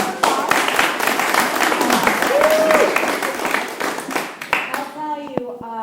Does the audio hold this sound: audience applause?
yes